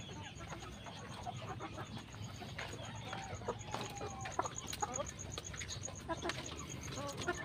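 A rooster and hens clucking in a poultry yard, with scattered overlapping clucks and calls at a moderate distance over a low background hum.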